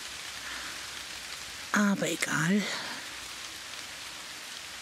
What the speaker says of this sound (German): Es regnet tatsächlich mal bei uns.